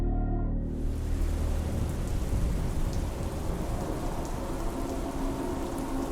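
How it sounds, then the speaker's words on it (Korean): Steady rain pours down over a reservoir, a dense continuous hiss of drops hitting water and ground that begins abruptly and stays loud and even throughout, with a low rumble underneath. "비가 내리기 시작했다."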